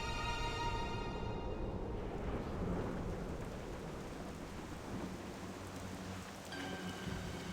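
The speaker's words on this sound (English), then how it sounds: "Raining. Cool." Steady rain and rumbling thunderstorm noise in World of Warcraft, heard alone as a dense, continuous wash with low rolls of thunder, fairly loud and close throughout.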